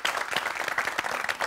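Audience applause at a talk, a dense steady wash of many hands clapping at close range, sustained evenly across the whole moment with no voices over it.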